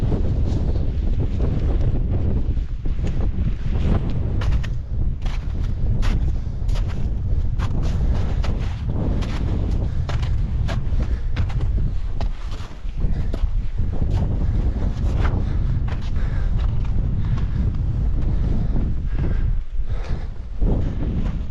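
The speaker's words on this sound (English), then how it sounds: "I'll tell you what, it's windy though." Strong wind buffets the microphone on a snowy winter mountain summit in the Lake District, a loud, continuous roaring rush with gusty surges throughout and no talking.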